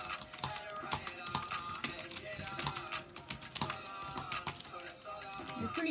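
Fast typing on a computer keyboard during editing, a dense run of close, crisp key clicks and clacks that continues without pause.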